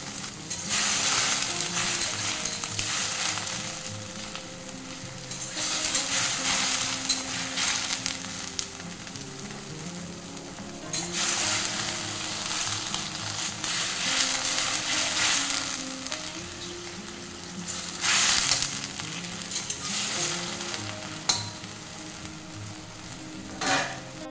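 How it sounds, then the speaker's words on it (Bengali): Nawabi paneer gravy with green chili bubbling in a pan, a continuous sizzle and simmer with repeated bursts of stirring scraping at the pan, close and fairly loud. "এটা 2 মিনিট খালি ফুটিয়ে নেব। কাঁচা লঙ্কাটাও এই সময় দিয়ে দেবো।"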